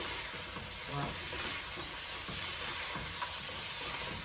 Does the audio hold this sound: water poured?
no